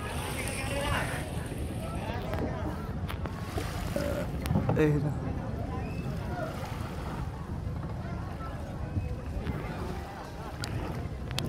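A small boat arrives on the water, its motor a faint low rumble mixed with wind noise across the microphone and lapping water, while people talk nearby.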